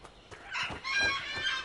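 A bird in the video game Dragon Age: Inquisition lets out a few harsh, fowl-like squawks in quick succession, moderately loud and heard alone.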